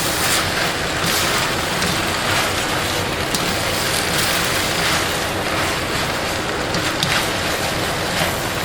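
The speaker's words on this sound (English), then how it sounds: "you want to continue stirring it so it doesn't stick to the bottom of your pan" Vegetables and spaghetti stir-frying in a pan, a steady, dense sizzle that holds without pause throughout, with no talking.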